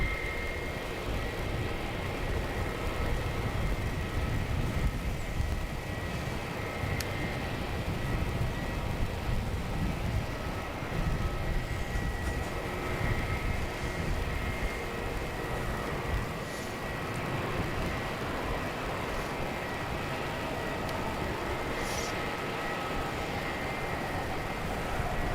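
A Jetstar airliner arrives from Sydney onto runway 27 at Melbourne Airport at night, heard from the terminal as a long, steady distant engine roar and hiss that stays fairly even throughout, with no voices.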